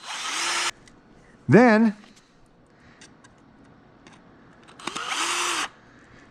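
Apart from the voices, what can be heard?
screw gun driving screws into a wooden deck chair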